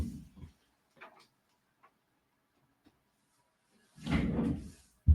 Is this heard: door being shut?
yes